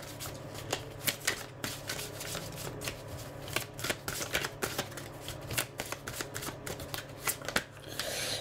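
A deck of playing cards is shuffled up close in quick, uneven bursts of crisp riffling and flicking, with sharp papery clicks repeating throughout.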